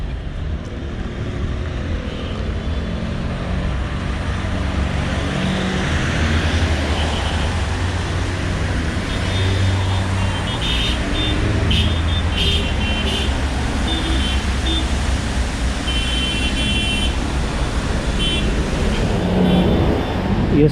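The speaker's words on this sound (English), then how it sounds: "You see the patterns of how these cars, these vehicles, these taxis, I mean, travels, how they beep, the sounds and all that." Busy downtown Pretoria city traffic, cars and taxis rumbling past with occasional beeps, a steady loud street roar throughout.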